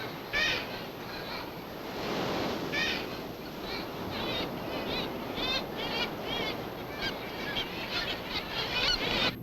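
Murres, auks of a crowded seabird nesting colony on island ledges, fill the air with a continuous chorus of harsh, overlapping calls and croaks, some near and loud, many more blended in the background.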